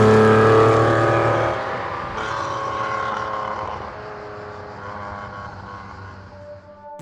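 A 1974 Lancia Stratos HF Stradale engine runs loud and close, its steady drone easing gradually as it settles, with no talk over it.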